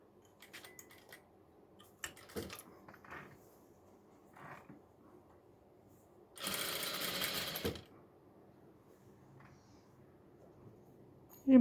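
A sewing machine stitching a dupatta border runs in one close burst of about a second, with quiet clicks and handling noises of fabric and pins before and after.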